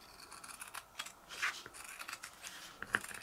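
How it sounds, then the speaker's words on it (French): Scissors cut faux leather up close in a quiet room, a few short, faint snips and crisp shearing clicks at irregular intervals, with no talking. "je vais venir utiliser du coup mes ciseaux pour simili"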